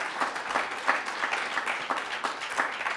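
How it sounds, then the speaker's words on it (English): Audience at a book awards ceremony in a salon venue applauding the jurors, sustained, even applause from a sizeable crowd with a few distinct nearby claps standing out. "give them a round of applause for their work"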